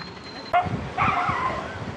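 A dog by a roadside near Marthandam barks at a passing group of cyclists; a few short yelping barks stand out over faint road and ride noise.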